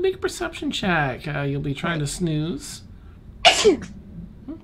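A sneeze bursts out near the end of a tabletop roleplaying game session, loud and sharp after a stretch of people talking.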